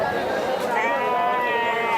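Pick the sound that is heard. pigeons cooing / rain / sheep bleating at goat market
sheep bleating at goat market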